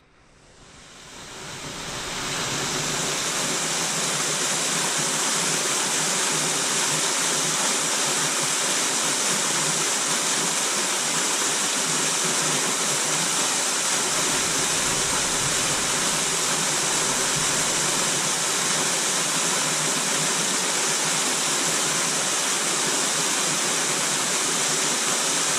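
A steady, loud rush of falling water at Spruce Flats Falls fades in over the first couple of seconds and then roars on without a break, broadband and constant, with no voices.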